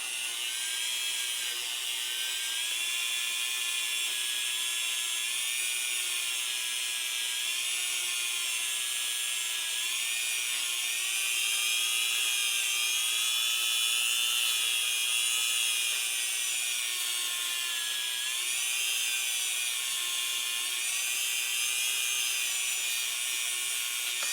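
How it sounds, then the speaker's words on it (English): A steady high-pitched whirring grind of a small drill cutting metal, drilling out the feed ramp of a threaded Lone Wolf barrel for a Glock 21 pistol, runs continuously and close up, without a break. "I'm going to go ahead and just drill this out and hollow it out"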